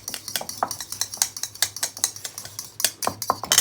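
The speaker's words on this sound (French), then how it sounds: "Je mélange le tout." A spoon is whisked rapidly around a bowl, mixing mustard, raspberry pulp vinegar and oil into a vinaigrette, making a steady run of close, quick clinks and scrapes in a fast rhythm.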